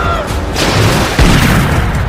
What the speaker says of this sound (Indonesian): Sterling pun langsung menembak bahu Jack dan membuatnya terjatuh ke dalam air.